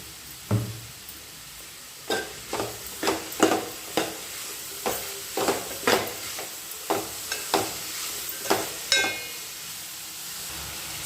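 Ivy gourd (dondakaya) fries in oil in a pan while being stirred, a quiet sizzle broken by about fifteen sharp, close scraping strokes at a fairly regular pace.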